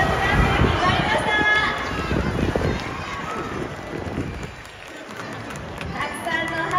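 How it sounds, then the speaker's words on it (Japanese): Spectators applauding and cheering at a public orca training show, a loud crowd roar with clapping and chatter that thins briefly midway and then swells again. "たくさんの拍手と歓声をありがとうございます。"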